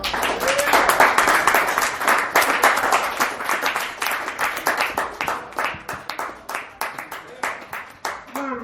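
A comedy show crowd at a dive bar gives applause that builds loud and dense, then thins into rhythmic, separate claps that fade toward the end.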